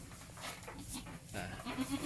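A Boer crossbred goat with her newborn kid just after birth, with faint bleats in a quiet pen.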